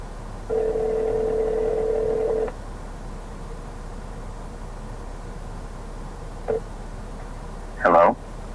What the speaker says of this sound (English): We're already initiating the phone call.